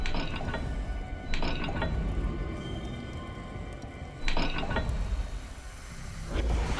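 Puzzle dial mechanism turning in Hogwarts Legacy, a series of mechanical ratcheting clicks and gear-like clacks that come in a few bursts over a steady game ambience, fairly close and moderately loud.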